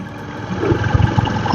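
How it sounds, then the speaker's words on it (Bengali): A motorbike engine labours up a hill road, its low, steady drone building slightly in loudness and roughness as it climbs, with no talking over it. "প্রথমবারের জন্য পাহাড়ে উঠছি বোধহয় বাইক নিয়ে"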